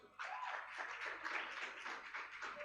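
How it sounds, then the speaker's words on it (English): Audience applause for a presenter leaving the stage at a tech summit livestream, a steady dense patter of many hands clapping in a large hall, moderately loud and unbroken with no talk over it. "Please give him a big round of applause."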